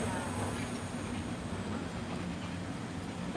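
A Universal Studios Hollywood tram rolls along at night with a continuous low rumble and faint clattering, steady throughout, rising slightly at the very end.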